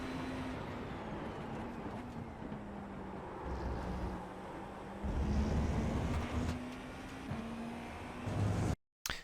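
A GTP prototype race car at full speed around Road America in the iRacing sim gives a steady, droning engine note with a few pitch shifts for gear changes, fairly quiet, then briefly cuts out near the end.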